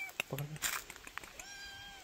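A kitten taken from the forest and brought home in a hill village gives a few short, close meows mixed with human voices and handling noises.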